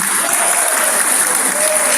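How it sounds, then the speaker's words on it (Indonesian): A church congregation at a worship service applauds, a loud, steady, dense wall of clapping with a faint voice beneath. "Terima kasih Tuhan, tepuk tangan"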